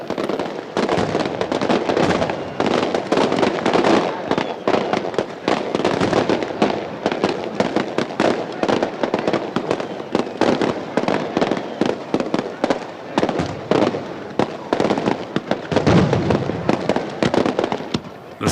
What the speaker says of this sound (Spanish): La semana de los piratas empieza a cañonazos.